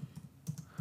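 Typing on a computer keyboard, a quick run of soft close key clicks in an uneven rhythm with no talk.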